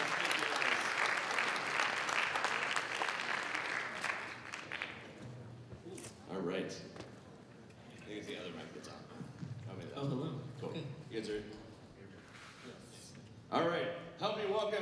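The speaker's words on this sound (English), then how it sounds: "All right, give me a huge round of applause." Loud, dense applause from an audience at a closing ceremony fills the first five seconds, then fades as someone talks over the room with scattered crowd noise.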